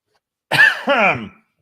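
A single close cough in two rough bursts, loud and brief, with silence before and after.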